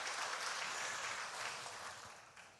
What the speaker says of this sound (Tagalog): pwede po bang pumalakpak?